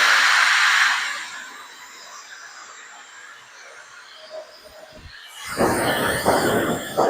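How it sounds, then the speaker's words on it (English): A handheld hair dryer blows on a man's hair during styling, a loud airy whoosh at first that drops to a faint hiss as it moves away. Near the end a second rougher burst of blowing and rustling comes in. "I just kind of like blow dry all this stuff up with my fingers"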